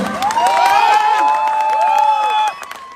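A wedding crowd breaks into loud applause and cheering, with whoops and shouts over steady clapping for about two and a half seconds before it drops off abruptly.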